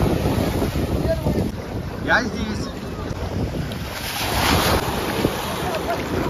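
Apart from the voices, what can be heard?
strong wind and waves at the sea beach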